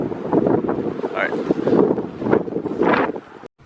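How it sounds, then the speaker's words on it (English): Strong wind buffets the microphone outdoors near abandoned copper mines in Audubon, Pennsylvania, a steady loud rumble with gusts, while someone talks over it. "it's kind of windy"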